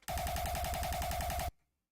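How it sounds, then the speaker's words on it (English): A rapid quarter-beat hardstyle kick drum roll, evenly spaced fast hits sounding for about a second and a half, then cutting off abruptly into silence. "So this is gonna be a quarter beat kick roll"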